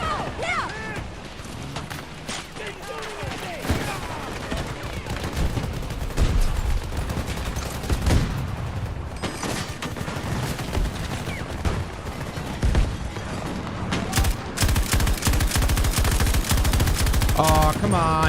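Rapid gunfire from a shooter video game, bursts of automatic shots and single cracks crowding the whole stretch, loud and continuous, with some talk under them.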